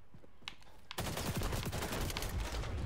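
Rapid automatic gunfire firing incendiary rounds in the shooter game XDefiant, a dense loud burst of shots starting abruptly after a near-quiet moment and continuing without pause.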